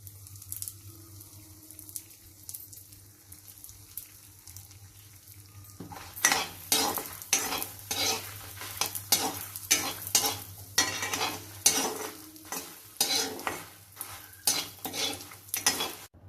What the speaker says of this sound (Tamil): மிளகா வறுத்து எடுத்துட்டேன்.